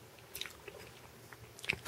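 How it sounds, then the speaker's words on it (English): A person chews gum close to the mic, giving quiet, irregular wet clicks and smacks over faint room hiss. "So sorry if you hear me chewing. I'm chewing gum."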